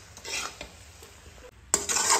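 Noodles tossed with sauces in a wok-style pan make a close stirring and scraping clatter with light sizzle, quieter at first, then a louder burst of metallic tossing near the end.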